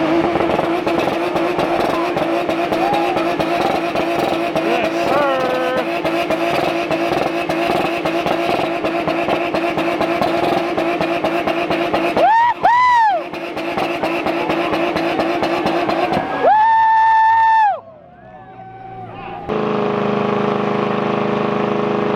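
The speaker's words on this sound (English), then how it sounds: "who would you say won the burnout competition?" Cars do burnouts at a burnout competition, engines roaring loud and sustained with screaming revs that rise and fall in sharp bursts, tire squeal mixed in, a short gap, then more engine noise.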